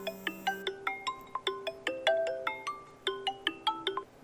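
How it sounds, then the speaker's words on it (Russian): A WhatsApp group message alert rings out on a Xiaomi Mi9 smartphone as a long melodic sequence of bright, plucked chime notes in a bouncy repeating pattern, clear and alone. "у меня слишком почему-то долгое какое-то уведомление того, что приходит сообщение в группы в WhatsApp"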